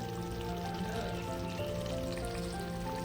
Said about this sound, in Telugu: ఒక 2 నిమిషాలు సిమ్లోనే ఉడకనిద్దామండి